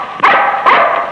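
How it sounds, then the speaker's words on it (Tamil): A tethered dog barks twice in quick succession, loud and close, each bark sharp with a brief whining tail. "அதுதான் எங்க வீட்டு நாய் இந்த கத்தி இருக்குது"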